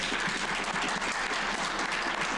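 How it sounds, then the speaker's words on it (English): A lecture audience breaks into dense, continuous applause. The clapping is full and steady throughout, with no speech over it. "a round of applause for them."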